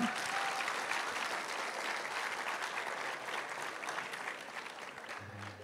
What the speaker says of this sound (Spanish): Vamos a darle un aplauso al pastor Joseph.